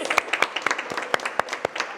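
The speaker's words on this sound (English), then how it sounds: "Please give her a round of applause." Audience at a press conference breaking into applause, a short burst of scattered, moderately close hand claps.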